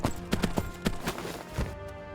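Hooves clip-clopping from a high-level horse ridden in a Three Kingdoms video game, a quick uneven run of sharp hoofbeats close up, with faint game sounds behind.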